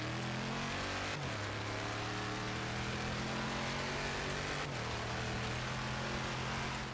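Car engine in Forza Horizon 3 holding a loud steady drone, with two sudden pitch drops as it brakes and downshifts, no talk over it.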